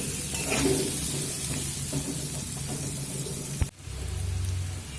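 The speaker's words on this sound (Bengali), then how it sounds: "লো টু মিডিয়াম করে কুমড়োটাও ভেজে আমি উঠিয়ে নেব" Oil sizzles and crackles steadily as pumpkin pieces fry over low to medium heat, with a brief knock of a utensil near the end before the frying continues.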